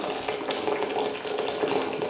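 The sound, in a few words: boiling water poured from a kettle onto tomatoes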